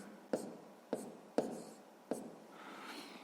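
Four short, crisp pen or pencil strokes tap and scratch on paper at a steady pace while a fraction is written out by hand, quiet and close.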